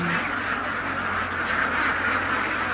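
CD Super laying ducks on a farm in Kalasin, Thailand, quack in a dense, continuous chorus, loud and close, many birds calling at once with no pauses.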